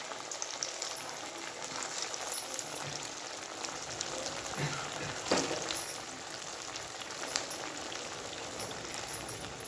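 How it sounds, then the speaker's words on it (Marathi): Cutlets deep-frying in hot oil on a low flame, a steady close crackle and hiss with scattered pops running throughout, with no voices. "हे मंदाचेवर गोल्डन होईपर्यंत तळून घ्यायचे छानपैकी"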